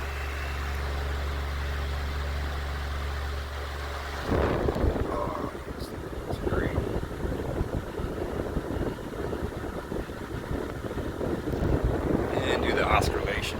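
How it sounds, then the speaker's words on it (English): A 1988 Galaxy 2151 16-inch table fan switches to high speed, shifting from a steady low motor hum to a louder, broad airy rush with a faint whine, close and continuous, with a few clicks. "Now I'll go to high speed. Got that nice Galaxy motor whine I like."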